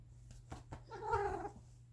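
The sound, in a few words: domestic cat meowing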